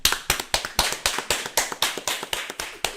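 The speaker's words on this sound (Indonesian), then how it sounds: "Tepuk tangan." Close, steady hand clapping in quick, even beats, applause for a trio's performance in a Javanese wayang dance setting, with no talking over it.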